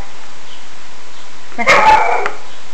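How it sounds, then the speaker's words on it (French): A single short bark from a female dog, a sharp yelping burst, breaks an otherwise quiet room. "c'est ma chienne, elle aboie"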